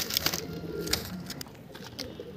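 Pigeons softly cooing in a loft, low repeated coos with a few brighter calls, close and quiet, with no talking.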